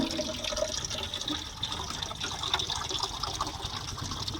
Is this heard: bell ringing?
no